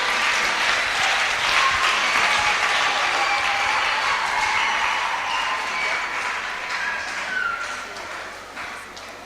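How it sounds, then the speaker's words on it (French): Sustained audience applause during a children's conference session with testimonies and presentations, a dense steady clapping that fills the clip and tapers off slightly toward the end, with no talk over it. "Applaudissez."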